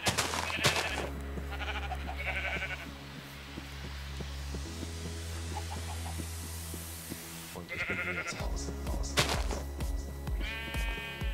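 Sheep in the Minecraft video game bleat several times in short nasal calls over steady game music and background hum, with a quieter stretch in the middle and no talking.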